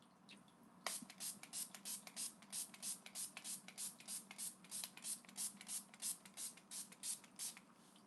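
Makeup setting spray is misted onto a face in a rapid series of about twenty short, close hissing spritzes, evenly rhythmic and quiet, with no talking.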